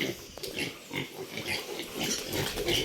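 Several pigs grunting and snorting close by, with overlapping low grunts and occasional squeals forming a continuous busy chorus.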